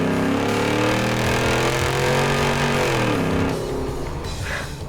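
Exhaust note of a 2012 Ford F150 Raptor SVT fitted with a Corsa Extreme exhaust as it drives a lap, a loud steady engine drone with rising harmonics that eases off near the end.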